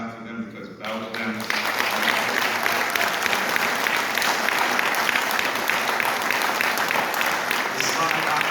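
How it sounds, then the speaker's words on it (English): An audience applauds staff at a celebration of Marcus Garvey's birthday; after a brief voice at the start, steady dense clapping from a sizable crowd swells and continues throughout. "so if you would please clap for them"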